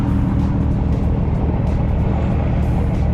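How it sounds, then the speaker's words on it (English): A car drives close past a parked Nissan GTR, a loud, steady low engine rumble and road roar filling the whole stretch, with no talking. "this car is about to hit us"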